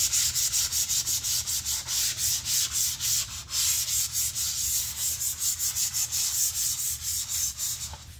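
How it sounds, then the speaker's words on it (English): Scuff sanding a surface by hand with a 220 grit sanding pad: rapid, rhythmic back-and-forth scratchy strokes, close and steady, alone without talk. "scuff sanding is just using like a 220 grit and just wiping down the surface with"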